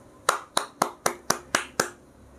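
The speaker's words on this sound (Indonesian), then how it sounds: "Saya tepuk tangan dulu ya untuk Pak Jokowi." A single person claps seven times in an even rhythm, each clap crisp and close, in an otherwise quiet room.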